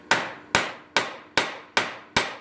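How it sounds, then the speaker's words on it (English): A hammer strikes a 3/16 inch truss head rivet six times at a steady, even pace, each blow a sharp, close metallic crack that decays quickly, with no voices. "now we can hit the rivet a few times"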